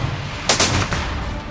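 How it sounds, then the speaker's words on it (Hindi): Gunfire erupts during a police confrontation with fleeing suspects in Punjab: two or three sharp, loud shots in quick succession close by over a rough background rumble. "गोलियां बरसने लगीं।"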